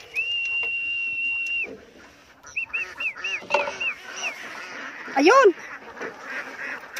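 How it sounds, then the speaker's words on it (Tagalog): A large flock of ducks in a rice paddy quacks and honks in a busy, overlapping chorus at close range, with a person briefly calling out among them. "Ayun, ang dami yung itik."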